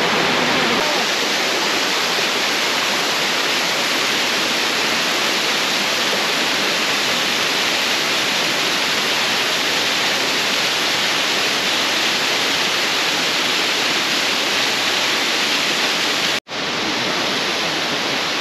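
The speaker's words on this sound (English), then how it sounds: "So this is one of the waterfalls along this route we decided to drive this morning." Waterfall along a mountain road near Boquete, Panama, roaring as a loud, steady broadband rush of falling water that fills the whole clip, with a brief cut near the end.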